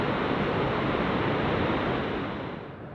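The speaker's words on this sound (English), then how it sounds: "with the sound of the raging falls in the distance." Smith River Falls roaring in the distance along the Alaska Highway in the Northern Rockies, a dense, steady broadband rush like heavy white noise that fades slightly toward the end, with no voices.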